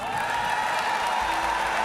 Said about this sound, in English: the crowd are warmed up, they're raring to get things started